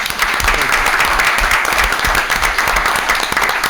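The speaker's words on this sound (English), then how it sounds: "So I would like for us first give him a round of applause and thank him for his service." A room full of people at a town council special meeting breaks into sustained applause, dense and loud, with a few voices mixed in.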